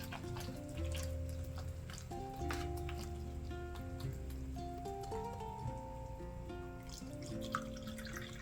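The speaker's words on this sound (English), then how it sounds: "we're gonna add a little bit more water" Warm water is poured gently onto compressed seed starter pellets in a tray, giving quiet trickling and dripping, low in level over a steady background hum.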